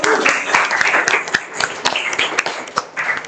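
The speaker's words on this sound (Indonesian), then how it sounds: "Diki dapat 100, kita kasih aplaus dulu." A small group gives a student a burst of scattered clapping, lively and close, with individual claps standing out as it thins toward the end.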